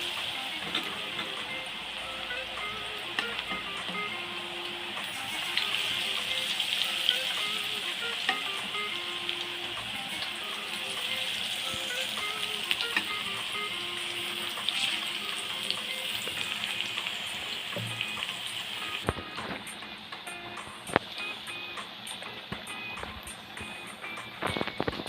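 Boondi batter for motichoor laddu fries in hot oil with a dense, continuous sizzling hiss that runs steadily throughout, punctuated by occasional faint clicks and stirring.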